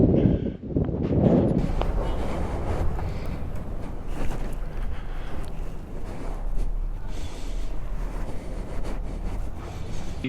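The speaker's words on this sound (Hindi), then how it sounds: "टोपी उड़ जाएगी इतनी तेज़ हवा चल रही है।" Loud, steady strong wind in Leh, Ladakh rushes and rumbles against the microphone, with a few brief thumps near the start and no voices.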